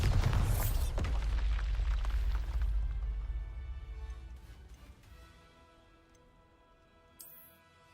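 A Bombarda spell explosion in Hogwarts Legacy bursts with a heavy, deep boom that rolls off into a fading rumble, with a few faint clicks and a small bright magical flicker near the end.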